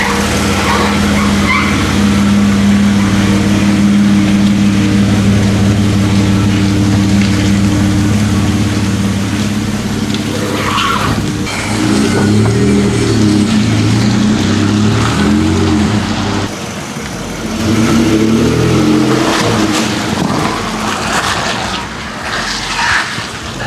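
A 2023 Nissan Frontier race-truck build with a big aftermarket exhaust idles loudly, then two bursts of revving around the middle and end trail off into soft crackling burbles, near and dominant.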